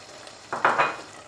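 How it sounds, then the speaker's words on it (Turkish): Spices go into a pot of madımak, a dish of dried greens and bulgur, and a spoon stirs them in, giving a few brief scraping, sizzling clatters against the pot over a quiet background. "Baharatları da kattım, karıştırdım."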